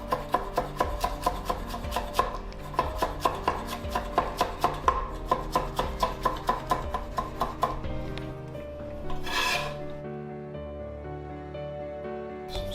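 A knife chops rolled-up cilantro on a cutting board in a busy restaurant kitchen, with quick, even, close knocks for about eight seconds, then a rubbing scrape and a quieter stretch, all over a background of music.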